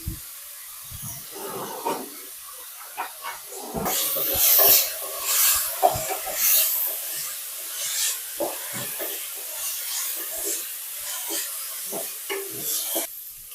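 Brinjal frying in a pan for a brinjal and chayote curry, a steady broad hiss and sizzle with intermittent stirring scrapes and clinks, louder in the middle, with no talking.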